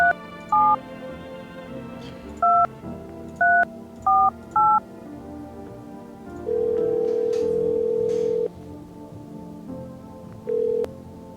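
Telephone keypad tones in the video game No, I'm Not A Human: several short, distinct dialing beeps in an irregular sequence, then a long steady tone and one last short beep, over a low background hum.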